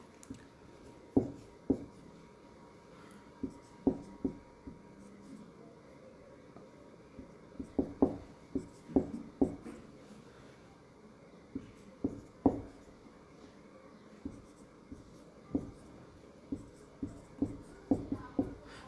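Pen strokes from someone writing a determinant by hand, sounding as soft, irregular scratches and taps spaced through the stretch, close and fairly quiet, with no talking.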